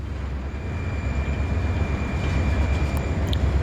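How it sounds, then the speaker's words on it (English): Low continuous rumble of a freight train slowly shoving cars in a rail yard in Iowa, steady heavy rolling noise with faint metallic squeaks. "shoving, building a bigger train"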